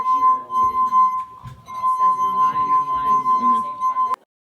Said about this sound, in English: We rubbed our finger around the rim of one glass.